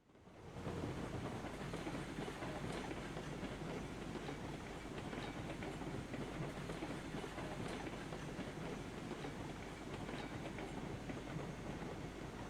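A freight train in Railroads Online rolls steadily along the rails on the HK map hauling an oil delivery, a continuous loud rumble with clattering wheels and no pauses.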